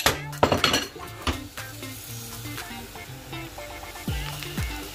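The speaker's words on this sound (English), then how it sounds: "Put the pancake mix in." Pancake mix sizzles and fries in a pan while a utensil stirs and clinks against the metal. Sharp scrapes and knocks repeat irregularly over a steady hiss.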